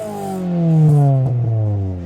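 A 20-year-old Ford Fiesta ST with a slightly smoky engine revs up and falls back, heard loud and close from outside the car, with a brief rattle as the revs drop.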